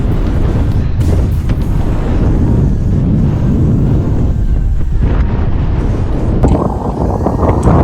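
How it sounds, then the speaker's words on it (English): Strong, steady wind on a mountain summit buffets the microphone in a loud, continuous roar with gusty low rumbles, outdoors and exposed. "Oh, it's windy up here."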